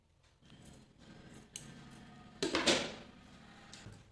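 Scissors snipping fabric while trimming a stitched blouse sleeve for cut-work, a few close, crisp cuts with a sharper cluster of snips near the end, with faint handling rustle between them.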